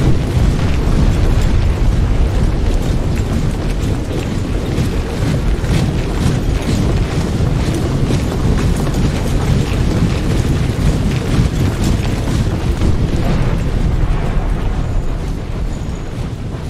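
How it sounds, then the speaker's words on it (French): Cannons fire in Empire: Total War during a battle, dense booming blasts rolling on continuously and loudly with no gaps. "ces canons qui sont les moins précis de tous"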